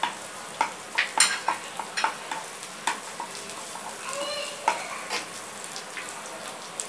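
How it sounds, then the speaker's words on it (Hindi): Garlic fries in oil for Gobi Manchurian. The soft, fairly faint sizzle is broken by scattered clicks and light taps of a utensil stirring in the pan, with no voices. "लहसुन इसमें फ्राई करेंगे।"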